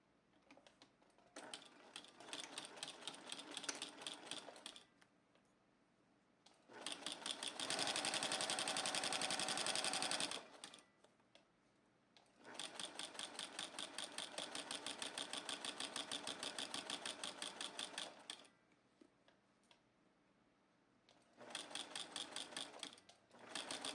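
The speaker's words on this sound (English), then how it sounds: "So we'll take it over to the machine and sew it at a 1/4 inch." Sewing machine stitching quilt-as-you-go blocks at a quarter-inch seam, several bursts of rapid whirring stitches at steady speed separated by brief quiet pauses, close and alone without talk.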